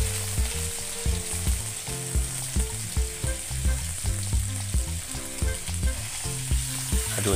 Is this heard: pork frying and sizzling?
yes